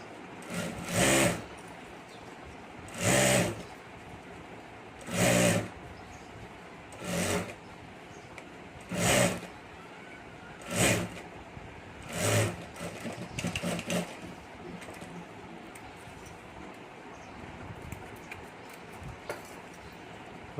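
A sewing machine stitches across the top of a handbag in short, repeated bursts, about eight loud runs separated by brief pauses, followed by quieter fabric handling.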